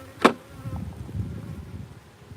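Honey bees buzz around an active beehive in a steady, close hum, with one brief sharper burst near the start.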